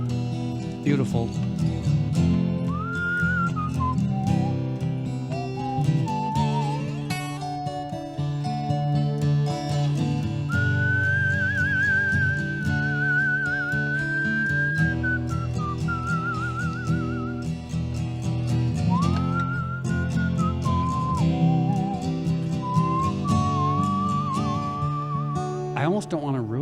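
A whistled melody stands in for a slide guitar across several phrases, gliding and warbling between notes over continuous chords played live in a radio studio.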